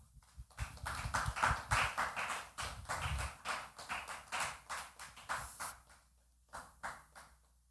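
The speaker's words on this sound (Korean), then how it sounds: "박수." Congregation applauding during a testimony at a Korean church youth worship service, a dense burst of hand claps with rhythmic tapping that continues steadily for several seconds before thinning out.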